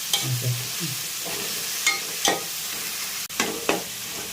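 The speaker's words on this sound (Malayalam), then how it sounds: "വെളുത്തുള്ളി ഇഞ്ചി രണ്ടും കൂടെ ഓരോ ടേബിൾ സ്പൂൺ അതും കൂടി ഇതിനകത്തിട്ട് നല്ലപോലെ വഴങ്ങണം" Crushed garlic and ginger fry in a pan for a vegetarian curry, giving a steady sizzle punctuated by several sharp clacks of a spoon stirring against the pan.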